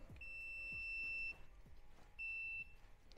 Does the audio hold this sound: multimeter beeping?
yes